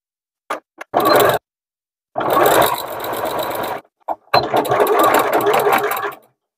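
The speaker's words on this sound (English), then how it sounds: "you can slow down over the extra layers where the grommet tab is, and you can also backstitch over it" A sewing machine stitches a denim basket seam in several bursts of rapid, close mechanical chattering, starting with short taps, then longer runs with brief pauses.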